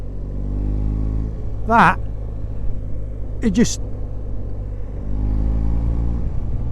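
Motorcycle fitted with a modified, non-standard exhaust riding through the Yorkshire Dales, a steady low engine rumble running throughout with a couple of brief rising whines, someone talking over it.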